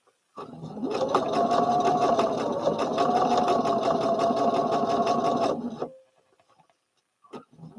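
A sewing machine stitches a Butterick B5572 garment while skipping some stitches, running in one loud, steady burst of about five seconds before stopping, followed by a few faint clicks.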